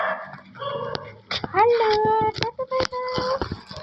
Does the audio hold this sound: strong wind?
no